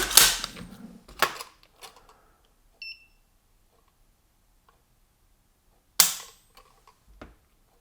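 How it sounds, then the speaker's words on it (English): Mechanical clicks from repeated trigger pulls on an LWRC M6 IC-A5 short-barreled piston rifle, a few sharp snaps spaced seconds apart with faint small ticks between them, close and otherwise quiet. "let's test this trigger out"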